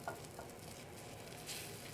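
Small pancake biscuits sizzle steadily in a slippery nonstick pan as they are flipped, a faint, even frying hiss with a brief scrape of the spatula.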